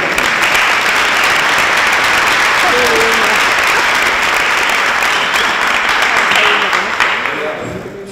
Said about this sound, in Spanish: pero un aplauso también para Juan Carlos Monedero.